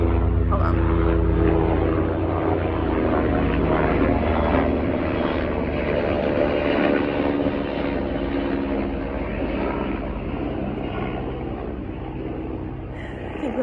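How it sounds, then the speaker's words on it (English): A helicopter flies overhead, its steady engine and rotor drone loud and continuous through the whole stretch, fading slightly toward the end, with a person talking over it. "I think we have a helicopter."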